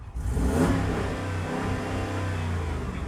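A Jeep Grand Cherokee's 5.7-litre HEMI V8 engine revs up loudly at close range, then settles into a deep, steady rumble.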